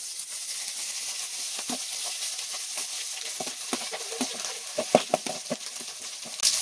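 Cooked rice mixed with salt and oil in a pan for curry leaves rice, a soft continuous sizzle under repeated scraping stir strokes that grow more pronounced toward the end, close and moderate.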